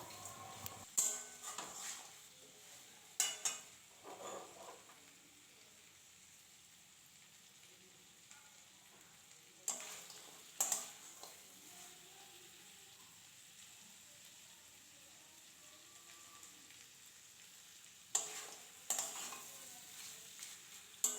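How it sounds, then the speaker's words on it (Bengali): Small crabs frying in a pan with spices and potatoes, a quiet steady sizzle broken by several bursts of stirring and scraping against the metal pan, with clattering utensil hits, in a home kitchen. "এবার মশলার সঙ্গে আলুর সঙ্গে কাঁকড়াগুলো একটু ভাজা করে নেবো"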